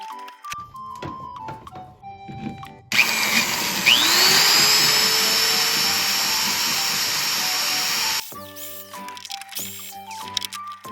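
A power drill whines loudly and steadily for several seconds, its pitch shifting as it bites into a rusted, broken bolt on a Suzuki Jimny, between quieter metallic taps and clanks.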